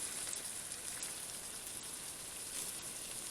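Water boiling steadily in a cooking pot while making an omelet, giving a constant, dense bubbling hiss with no breaks and no talking.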